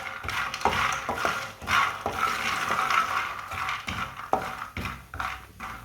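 Fox nuts (makhana) roasting in a pan, with repeated scraping and clinking of a spoon stirring against the metal, steady and close over a light sizzle.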